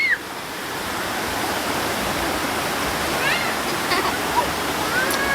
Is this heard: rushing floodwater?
yes